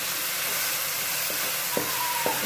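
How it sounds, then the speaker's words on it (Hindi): Chopped green chilies go into hot oil for bhindi masala, giving a loud, steady frying sizzle with a few soft stirring knocks and a faint tonal whine over the hiss. "अब मैं इसमें तीन से चार जो हरी मिर्चें मैंने कट की हुई थी वो ऐड करूँगी।"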